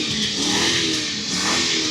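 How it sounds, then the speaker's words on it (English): A V8 car engine revs hard under acceleration, a loud, close, continuous roar with rising and falling pitch surges and no speech over it. "That's the power of a V8 right there."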